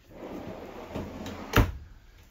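A long drawer in the booth dinette of a Nash 25KT rear-kitchen travel trailer slides with a soft rumble, then shuts with one sharp knock midway, heard alone in a quiet interior.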